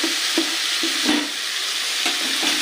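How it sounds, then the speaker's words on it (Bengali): Elephant foot yam stalks sizzling as they fry in a pan, with a few distinct scraping stirs of a spoon cutting through the steady close hiss. "ওই ওলের ডাকটা দিয়ে আমি কিন্তু ভালো করে নাড়াচাড়া করে নিচ্ছি এখন"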